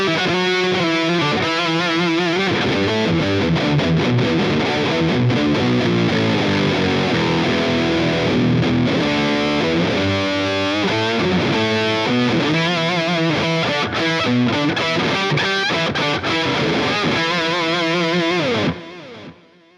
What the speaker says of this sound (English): Same signal path, but I've dropped in a simple pitch shifter.